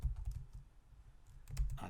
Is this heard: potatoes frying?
no